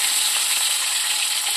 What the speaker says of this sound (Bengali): আমি এবার মাছগুলো এই কড়াতেই ভেজে নেব।